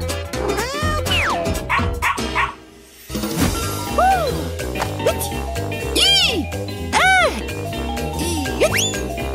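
A cartoon dog barks and yips over bright, busy children's music with jingling tones, the barks loud and repeated across the passage.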